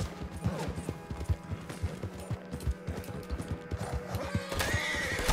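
A horse whinnies loudly amid rapid clip-clop hoofbeats and scattered game effects in Red Dead Redemption 2 online, with another neigh rising near the end.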